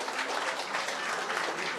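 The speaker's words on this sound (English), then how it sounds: "Let's give them a nice, strong hand of applause." A fairly faint, steady patter of audience applause for nine learners at a national financial literacy speech competition final, even and continuous without any voices on top.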